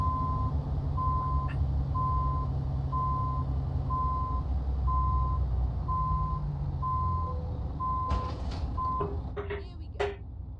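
Regular reversing beeps from a truck in Euro Truck Simulator 2 pulse steadily over a low engine rumble, with a few faint higher blips near the end.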